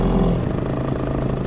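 A Sea-pro T2.6S outboard motor runs steadily on a boat at slow break-in speed, a loud continuous low drone with a faint clattering texture and no talk.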